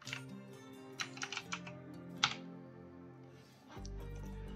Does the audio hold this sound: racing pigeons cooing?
no